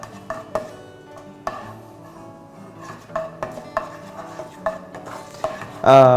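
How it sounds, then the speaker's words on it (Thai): Chopped garlic is stir-fried in a pan until golden, with a spatula clinking and scraping against the metal in an uneven rhythm over a faint sizzle, ending in a louder scrape. "ผัดให้กระเทียมเหลืองหอมพอสมควรนะครับ"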